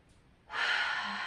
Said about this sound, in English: I want you to inhale.